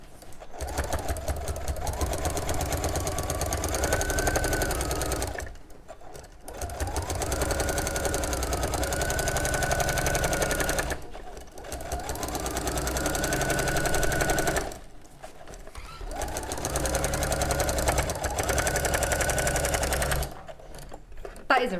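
A domestic sewing machine with a quilting foot stitching a Liberty fabric quilt, running in four long steady bursts of rapid whirring stitches, each several seconds long and separated by brief pauses.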